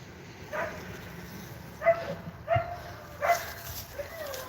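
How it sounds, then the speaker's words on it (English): Dogs at a beekeeping yard let out a few short, faint yips and whines, spaced apart over steady outdoor background noise. "And my dogs are talking to us."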